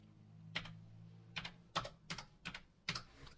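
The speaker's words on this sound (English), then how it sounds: "what I'm going to do is type in a 6-digit security pin" Six separate keystrokes on a computer keyboard while entering a 6-digit security PIN for a YubiKey passkey, crisp close clicks at uneven intervals with a pause after the first, quiet and without speech.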